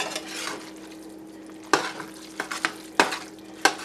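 Rotel tomatoes being stirred into a pot of Mexican cheese soup, with a wet, soft churning underneath and several sharp knocks of a spoon against the pot in the second half.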